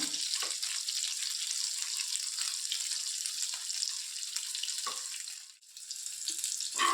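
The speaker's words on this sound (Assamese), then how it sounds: "এইখিনি আমি ভালকৈ ফ্ৰাই কৰি ল'ব লাগিব।" Chicken pieces for homemade butter chicken frying in oil in a pan, giving a steady, close hiss of sizzling that runs unbroken for the whole stretch, dipping briefly once near the end, with no voices.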